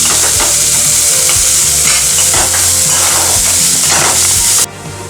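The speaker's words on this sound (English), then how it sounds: "Fry it till it turns, till the onion changes its color." Onions fry in a pan for keema momo filling, a steady loud sizzle with repeated scraping stirs throughout, cutting off abruptly near the end.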